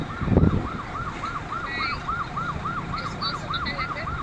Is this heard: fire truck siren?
yes